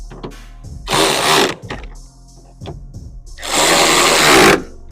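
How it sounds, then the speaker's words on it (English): A power drill whirs through a carbon fiber hood on a Toyota Camry in two loud, sustained bursts separated by a pause with lighter mechanical clicks. "You make sure you drill this hole in this hole."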